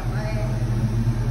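A car engine with a freshly worked carburetor runs at a steady low rumble in a backstreet paint and body shop, holding an even throb throughout with little sign of hard revving.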